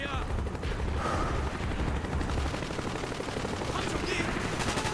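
Dense, rapid gunfire from a Call of Duty: Black Ops campaign battle, sustained rattling bursts filling the whole stretch with steady loudness and no pauses.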